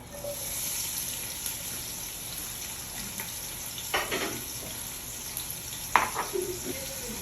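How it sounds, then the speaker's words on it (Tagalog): Ginger pieces dropped into hot cooking oil, sizzling and frying steadily with a few sharper clatters and splashes partway through; close and fairly quiet, with no talk. "So yun guys, nalagyan natin ng mantika. Mainit na, lagyan natin ng luya."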